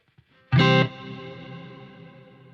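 Electric guitar through a Kemper Profiler with chorus modulation: one strummed chord rings out loud and close, then decays over about two seconds with a gentle wobbling shimmer.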